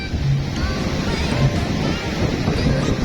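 Rushing surf and sea water at a beach in Baler where people are surfing, a steady broadband wash with wind buffeting the microphone throughout.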